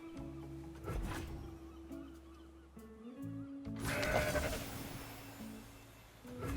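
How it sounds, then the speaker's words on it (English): Goat bleats from the League of Legends game, rising and falling in short cries over layered game music and effects, fairly loud and close. "I don't think I want to beam this goat."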